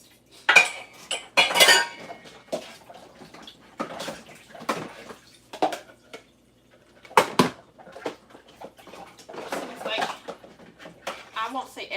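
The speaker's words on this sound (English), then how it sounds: "most of these dishes we should be washing as we go" Dishes and cutlery are washed at a sink, with irregular clinks and clatters of plates and silverware and splashing, running water, while someone talks over it now and then.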